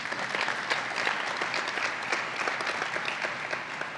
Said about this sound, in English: round of applause to thank those sponsors and welcome the students